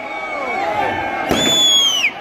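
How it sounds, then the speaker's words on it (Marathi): Dense crowd at Aditya Thackeray's rally in Malegaon, a loud continuous mass of overlapping voices with shouts, whistles and cheering close by. "इथे गर्दी आहे"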